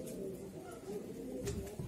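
Pigeons coo low and continuously at a bird auction in Ankara, a soft murmuring chorus with a faint chirp near the end.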